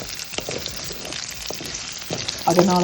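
Fennel seeds and chilies sizzle steadily in oil in a pan with a few scraping stirs, and a brief clatter near the end.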